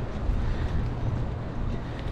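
Wind buffets the microphone in a steady low rumbling rush, fairly quiet and continuous, with no voices.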